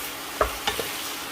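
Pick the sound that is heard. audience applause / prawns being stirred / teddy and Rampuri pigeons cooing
prawns being stirred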